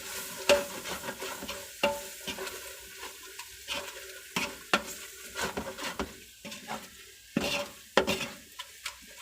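Masala spices with pepper, turmeric and cumin powders are stirred in a frying pan, close scraping strokes repeating irregularly over a soft sizzle, with no talk.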